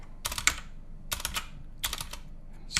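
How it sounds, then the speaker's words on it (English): Quick keystrokes on a computer keyboard come in three short bursts of clicking separated by brief pauses, close and fairly quiet, with no voices. "Simpler than typing the word true correctly."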